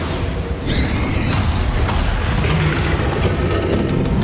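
A Bombarda spell blast in the wizarding action game Hogwarts Legacy, a deep booming explosion that swells and rumbles with crackling debris over a loud, continuous battle din, with no speech.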